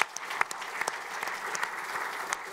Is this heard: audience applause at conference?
yes